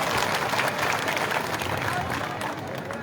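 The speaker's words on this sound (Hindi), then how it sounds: "जोरदार तालियां बजाकर उनका स्वागत करेंगे" An outdoor fairground crowd at a political rally claps to welcome the chief minister, a steady, moderately loud wash of applause with faint crowd murmur underneath.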